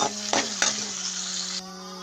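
Masala for Tamil-style crab gravy sautéing in a pan: a steady broadband sizzle with a couple of sharp spoon scrapes and knocks against the pan early on, the hiss dropping somewhat toward the end, no talking.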